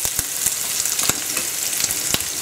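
Bacon frying in oil in a pan, a dense steady crackling sizzle with frequent small pops and spits, close up and continuous with no talking.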